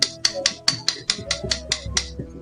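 A series of sharp, crisp cracks, about ten in steady rhythm, as a hardened piece of jaggery syrup for sesame chikki is snapped by hand close by.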